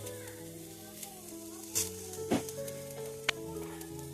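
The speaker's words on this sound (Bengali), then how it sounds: "আমার মা এখানে ছোলা ভাজছে" A steady sizzle of overnight-soaked chickpeas frying in a pan, with occasional clinks and scrapes of stirring, close and fairly quiet.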